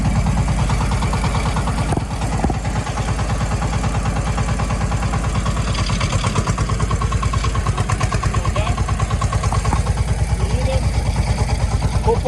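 Kentavr 240 minitractor, a 22 hp single-cylinder machine with a rotary tiller, chugging in a fast steady pulse after starting and revving up a little, loud and close with no talk over it.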